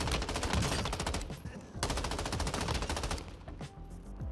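Rapid bursts of automatic fire from an M13 rifle in a first-person shooter video game, loud and continuous with a brief pause near the middle and a few spaced single shots toward the end.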